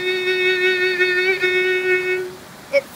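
Violin holding a single sustained note with a tense, narrow, uneven vibrato, a steady bowed tone that wavers slightly for about two seconds and then stops, played alone.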